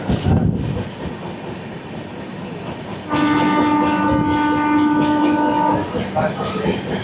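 Train being moved into a rail yard near Anand Vihar station: a steady rumble of rolling stock, joined midway by a sustained horn tone lasting a few seconds, heard from a moving train with ambient noise and no clear speech.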